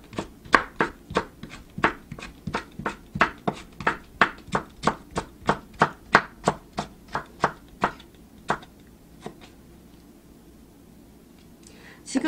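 A knife julienning peeled cucumber into thin strips on a cutting board gives rapid, evenly spaced sharp chops, about two or three per second and close up, then a few scattered taps as the cutting slows and stops.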